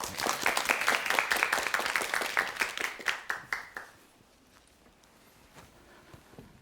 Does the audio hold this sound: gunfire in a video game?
no